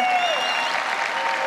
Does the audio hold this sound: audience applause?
yes